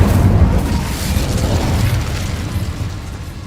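A fiery Incendio spell bursts in Hogwarts Legacy, a dense, rumbling whoosh of flame with a heavy low boom that stays loud and steady for several seconds before easing slightly at the end.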